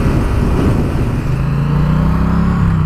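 A Triumph Street Cup motorcycle engine runs loud and steady, its note rising slightly into a sustained rev near the microphone, with no talking.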